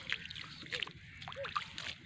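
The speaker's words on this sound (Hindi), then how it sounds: "साथ पानी भी लगा देते हैं।" Water poured onto a young jackfruit plant lands in soft, irregular splashes and sloshes, fairly close and quiet, with a few brighter chirp-like sounds scattered through.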